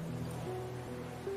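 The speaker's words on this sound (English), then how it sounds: "the sound of the waves" Ocean waves washing in a soft, steady surf hiss, heard up close behind a low, sustained tonal hum.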